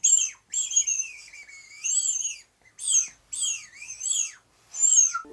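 A flute head joint played alone to imitate birdsong, giving bright, close chirping whistles in short repeated bursts with rising and falling pitch and brief pauses between calls.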